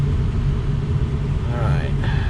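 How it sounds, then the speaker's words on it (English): Low rumbling idle of a 2003 Ford diesel truck engine being shifted and reversed, a steady close drone with a rising whine near the end, heard under speech. "let me open the fence, put it in drive, and reverse"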